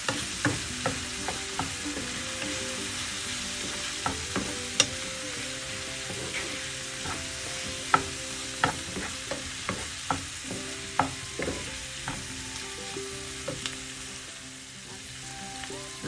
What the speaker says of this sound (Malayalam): എല്ലാം കൂടെ ചേർത്ത് നമുക്ക് നന്നായി മിക്സ് ചെയ്യണം